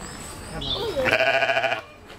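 A voice gives a short imitation of a sheep's bleat, a wavering nasal call after a brief rising tone, in a quiet room.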